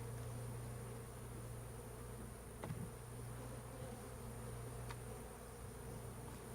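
Bees in a heavy hive box loaded with bees, a faint, steady low hum of buzzing that continues throughout, with a couple of brief sharp knocks.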